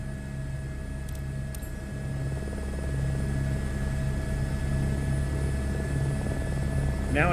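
An H125 helicopter in a flight simulator game spools up for takeoff, a steady turbine whine and rotor drone that builds slightly in loudness and runs throughout.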